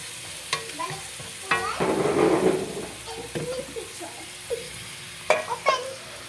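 Chicken adobo sizzles and fries in a pan while a utensil stirs it, giving scraping knocks and a rising burst of hissing before settling into quieter sizzle with scattered clinks.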